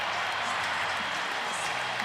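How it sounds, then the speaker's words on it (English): An Auburn football crowd roars from the stands behind the bench during a tied fourth-quarter game against Vanderbilt, a broad, continuous wash of cheering and applause. "You can hear the Auburn crowd behind that Auburn bench on the other side."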